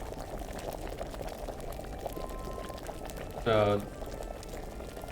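A potion boils during alchemy brewing in the video game Kingdom Come Deliverance, with steady low bubbling throughout and a brief louder splash midway; someone speaks a single word.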